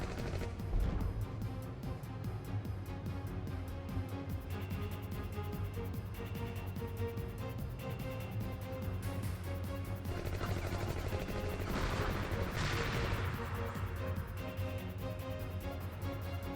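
Gunfire in the video game SeaBlade rattles through a dense, continuous wash of game sound, with scattered sharp shots and bursts over steady background rumble.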